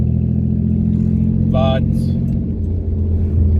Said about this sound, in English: you'll feel the revs drop, and then when the revs drop, that's when she wants to stall